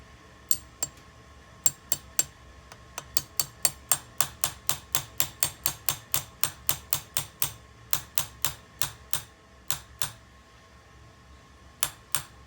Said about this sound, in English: keep this in place while I'm hammering in that pin